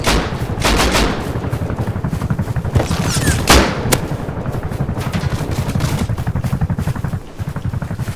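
Rapid AK rifle fire in the survival game Rust, loud and close, with long automatic bursts of evenly spaced shots and a few heavier booms mixed in.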